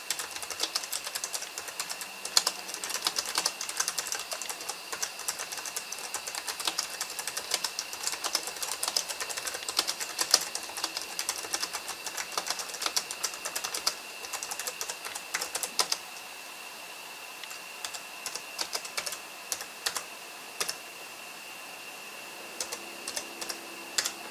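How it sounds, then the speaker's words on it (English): Rapid clicking of Acer Predator 15 G9-592 laptop keys, typed in bursts with short pauses, close and fairly crisp over a faint steady electronic whine. "The keyboard is extremely nice."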